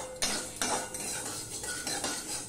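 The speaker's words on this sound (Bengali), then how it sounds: "গরম কড়াইতে আমি আরেকটু এভাবে নেড়ে নেব" Dry spices being stirred in a hot wok, scraping strokes of a metal spatula against the pan repeating several times close by, with no voices.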